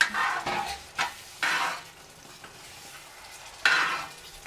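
A spoon scrapes and stirs through a sizzling pan of Kerala-style country chicken curry after stock is added, in several short close bursts of stirring over a continuous low frying hiss.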